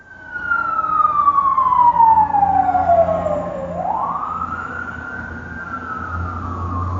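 A siren wails loudly, its tone sweeping down then rising again, with a low vehicle rumble underneath and no voices.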